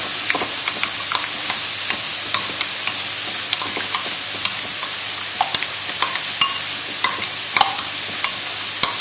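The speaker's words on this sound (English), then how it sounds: "just give that a nice stir" A spoon stirring cumin through a bowl of creme fraiche, with a steady soft hiss in the background and repeated light clinks and scrapes of the spoon against the bowl, close and with no talk.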